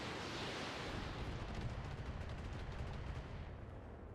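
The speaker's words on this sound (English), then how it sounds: "Is that missiles? It's missiles." Missile impacts on a mech in the Roguetech video game, a continuous roaring wash of explosive rumble and crackle that stays steady and fairly loud throughout, with no voices.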